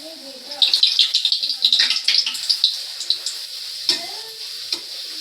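Puris drop into hot oil in a home kitchen and fry with a bright crackling sizzle, bursting in quick close pops that settle into a steady hiss, while faint voices and small utensil clinks sound in the background.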